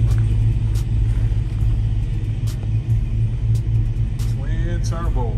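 Twin-turbo Oldsmobile 442 Cutlass engine idling with a deep, loud, lumpy rumble throughout, close by, with faint voices in the background.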